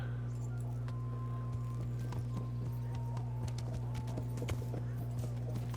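Steady hoof clip-clops from a horse walking in a video game, set over a constant low electronic hum and soft background tones.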